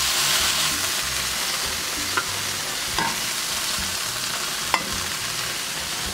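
Pieces of beef steak fry in a pan with a dense, continuous sizzle, close and steady, broken by a few light clicks of stirring.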